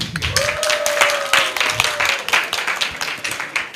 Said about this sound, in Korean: 박수로 격려해 주시면 좋겠습니다